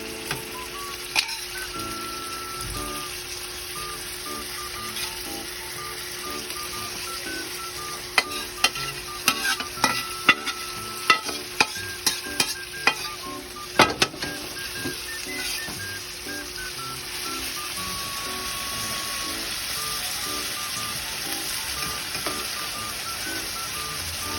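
June beetles frying in cooking oil, a continuous close sizzle with a cluster of sharp pops and crackles in the middle stretch, then settling back to an even hiss; no one speaks.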